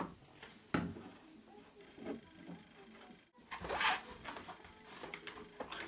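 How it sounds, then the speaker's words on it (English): Purple duct tape is pulled and pressed onto a brush roll, giving a few sharp, close ripping bursts against a faint, quiet background. "You're going to take a piece of your purple duct tape again, and then just place it on top so you don't see it and you're covering it."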